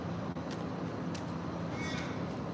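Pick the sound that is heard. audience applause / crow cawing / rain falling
crow cawing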